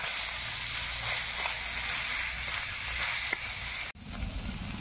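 Dried red chilli, bay leaf, whole cumin and onion hit hot oil left from frying rohu fish, giving a steady, loud, close sizzle that runs on and then briefly drops before flaring up again.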